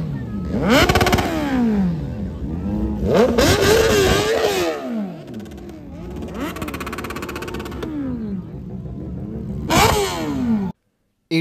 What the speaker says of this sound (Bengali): গাড়ির সাউন্ড তো তোমরা অনেকই শুনলা